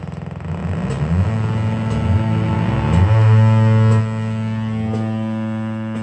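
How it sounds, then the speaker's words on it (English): A homemade analog synthesizer built in a tin can plays its triple VCO, producing a loud, buzzy sustained drone with stacked harmonics that shifts pitch and thickens before settling into a steady tone. "here's a triple VCO."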